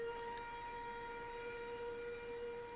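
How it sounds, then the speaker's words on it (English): Train in the Old Country Life farming game map, heard as a continuous, loud blend of a sustained horn-like tone and steady rumbling rail noise with no talk over it. "If you hear a train"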